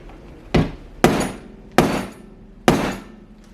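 Four sharp metallic hammer blows, evenly spaced and close, drive a Gibson bridge bushing into a Firebird Zero guitar body, each strike ringing briefly before fading.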